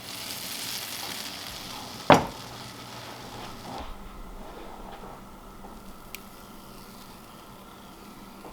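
Butter melting in a hot pan for a Dutch baby pancake, a soft steady sizzle with a sharp clatter as the pan is tilted, then a quieter sizzle that fades.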